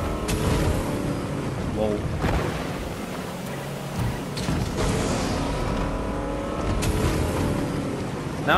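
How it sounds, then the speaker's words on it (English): A loud, steady motorboat engine in a video game drones throughout with water rushing, with a few sharper bursts and rising whines along the way. "I'm actually gonna try to talk over this boat because it's fairly loud"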